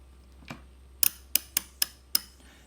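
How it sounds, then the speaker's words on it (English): A ratchet clicks as it is turned backwards, about six sharp metallic ticks in a quick uneven run, close and crisp against quiet. "how much torque does it take to make the thing click in the opposite direction"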